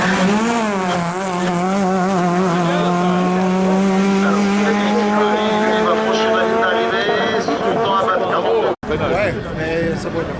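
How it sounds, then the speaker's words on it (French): Renault Clio RS race car on a hillclimb slalom, its engine note rising steadily through the gears as it accelerates nearby, loud and continuous with a brief break near the end; a commentator talks over it. "là, Grégoire Huguenin est parti sur cette Renault Clio RS."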